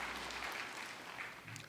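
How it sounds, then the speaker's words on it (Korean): A church congregation at a Sunday worship service applauds, a soft, dense patter of many hands clapping together at a distance, steady and moderately quiet for under two seconds. "박수를 하나님께 드리겠습니다."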